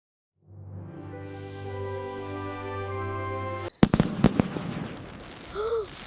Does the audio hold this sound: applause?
no